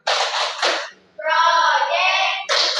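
Students in an Indonesian classroom chant the Tepuk P5 clap chant together as an ice breaker, with loud, close group voices in a sung rhythm and bursts of clapping at the start and end.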